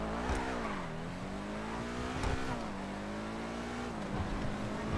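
A car in the video game GTA 5 drives fast near 200, its engine droning steadily with rising and falling pitch as it shifts, loud and continuous.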